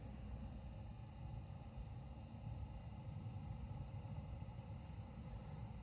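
E-8 diesel parking heater running just after firing up, a faint, steady low rumble and whirr that continues evenly with no voices.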